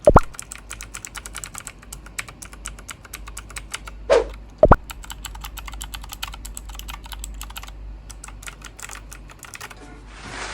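Rapid clicky typing on an EGA Type K4 mechanical keyboard with green and blue switches, sharp keystrokes in a fast continuous patter with a few louder clacks, close up and alone.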